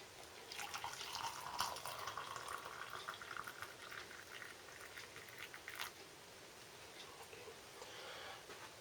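Hot water poured into a cup holding an English breakfast tea bag from a British Army ration pack, heard as a soft continuous trickling and splashing pour, faint and close, without speech.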